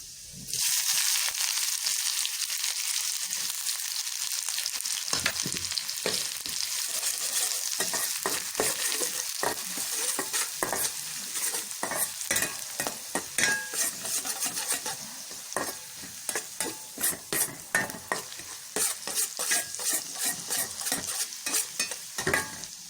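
Onions stir-fried in a pan for Korean-style egg fried rice, a loud continuous sizzle that turns into rapid, repeated scraping and tossing strokes toward the end.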